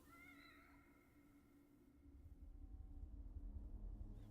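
A cat in the horror video game The Evil Within gives a short rising meow at the start, which fades as a low, droning ambience builds and grows louder.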